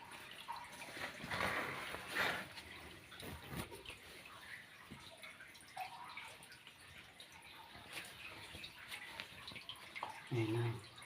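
Water dripping and flowing at the bottom of a virgin cave, a faint steady trickle with scattered drips in an echoing space, with people talking quietly over it.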